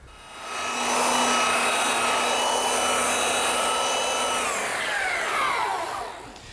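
Belt sander fitted with a 120-grit aluminum oxide belt, working a pine panel for a settle seat: a loud, steady motor whine and abrasive roar that runs for several seconds, then winds down in pitch as the machine spins to a stop.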